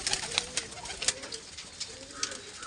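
Pigeons cooing nearby in soft, repeated calls, with a few scattered wing flutters and light background noise.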